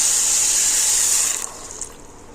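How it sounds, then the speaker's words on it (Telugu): A glass of water is poured into a cooking pan holding kalakaya (karonda) fruits for a village-style chutney, a close, steady splashing pour that stops abruptly partway through. "ఒక గ్లాస్ వాటర్ వేసుకున్నామండి"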